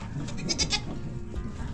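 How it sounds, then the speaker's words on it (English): Goats bleat in a quick run of repeated cries, close by, over a steady farmyard background. "Aspen, leave the goats."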